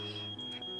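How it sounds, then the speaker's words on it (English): An alarm beeps in a Nancy Drew video game, Treasure in the Royal Tower, during a circuit breaker puzzle: a steady, piercing high tone holds through the whole short stretch, loud and constant with no talk over it. "there's an alarm going off in my ear."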